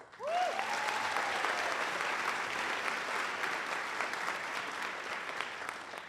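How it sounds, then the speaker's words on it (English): A room full of radio listeners applauds in a steady wash of clapping that starts abruptly and holds for several seconds, with a brief whoop near the start. "let us know by a show of applause"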